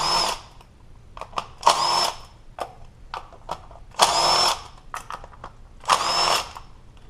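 A power tool spinning out 8mm valve cover bolts on a Ford 2.0/2.3 engine, four whirring bursts of about a second each with small clicks and handling noises between them, close and fairly loud, no talking.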